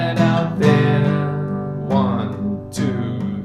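Acoustic guitar strumming the chords of a song, including G without the bass run, with four clear strums ringing out at a steady, unhurried pace and no voices.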